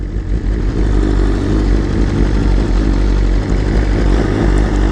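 A 2023 BMW M1000RR sportbike running on E85 fuel rumbles loudly nearby, a steady low engine drone with slight throttle fluctuations and no one talking.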